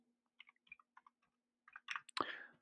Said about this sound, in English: I apologize for my archaic two-finger print typing abilities